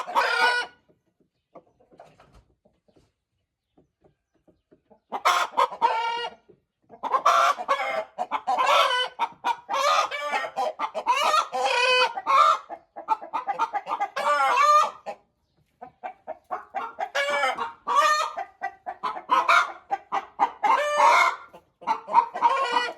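Hens clucking close by in bursts over a long stretch, busy cackling runs broken by short pauses, with a brief quiet start and no talk.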